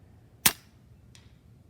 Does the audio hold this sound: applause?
no